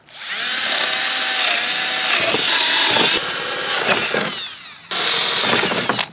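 A power drill whines loudly as it bores into wood, running in long bursts with brief pauses and changes in pitch.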